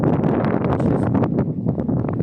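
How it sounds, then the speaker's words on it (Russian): Gusty outdoor wind buffets a microphone on a cold day, producing loud, uneven low rumbles and bursts that come and go in quick surges, with no talking. "Вот не было бы ветра, было бы вообще замечательно."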